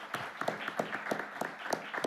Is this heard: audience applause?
yes